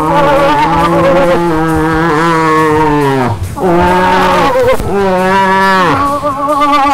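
A hunter voices a cow moose call, a long, loud, nasal moaning bellow drawn out in three sustained wavering calls with short breaks between them, imitated by mouth for bowhunting moose in Ontario.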